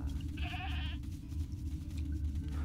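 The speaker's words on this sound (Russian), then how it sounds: "Попробуем выпустить козу." A goat gives one short, wavering bleat in the video game Mr. Prepper, heard over a steady low indoor hum, with no talking.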